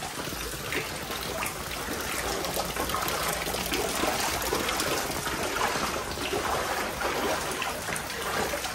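Floodwater trickling and running through a rain-flooded village, a steady, continuous wash of watery hiss that stays even and fairly close throughout.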